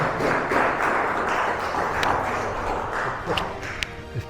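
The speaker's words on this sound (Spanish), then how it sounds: "Un aplauso al doctor Dueñas" Audience applause for a doctor introduced before a lecture on placebo, nocebo, quinine and homeopathy; steady dense clapping fills the room from start to finish with a few sharper claps near the end.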